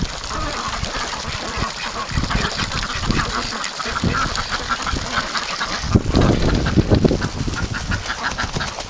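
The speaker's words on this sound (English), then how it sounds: "That little duck is going crazy, but he's a tiny little drake." A tiny drake quacks excitedly among a busy flock of breeding ducks on a warm spring day, with loud, overlapping honking calls up close.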